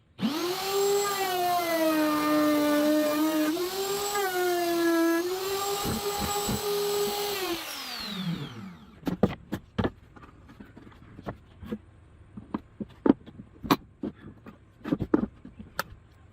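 A woodworking router makes its second pass guided by a pattern bushing while building a table saw cradle: a loud, steady motor whine for about eight seconds, then it spins down. Scattered sharp knocks and clatter follow.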